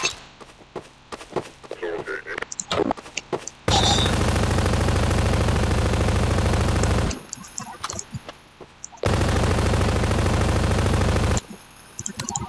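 Rapid automatic gunfire in Garry's Mod roars in two long sustained bursts, loud and dense, with scattered shots and game sounds between them.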